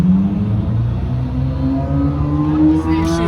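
A Corvette drives past a roadside stop, its engine note rising and falling with a steady, loud rumble that shifts pitch as it goes by, and faint voices come through underneath.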